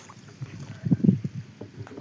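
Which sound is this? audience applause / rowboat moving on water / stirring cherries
rowboat moving on water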